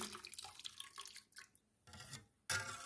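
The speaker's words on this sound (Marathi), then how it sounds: "आता हे पाणी आपण ह्या भाजीत ओतायचं आहे" Water splashes and drips in short bursts, with brief quiet gaps, then a louder gush at the end as water is poured into a pan of methi (fenugreek leaf) curry cooking in oil.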